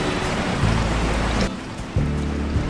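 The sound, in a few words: heavy rain pouring outside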